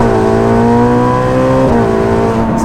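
A Ferrari 488 Pista supercar engine accelerates hard, loud and close, its rising tone broken by a quick gear change partway through before it climbs again.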